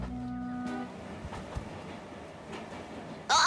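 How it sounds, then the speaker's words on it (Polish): A cartoon train rolls along its rails in a children's animated show, a low rumbling ride with a sustained horn-like tone at the start, faint clicks and a sharp bright burst at the end. "Uwielbiam jeździć pociągiem."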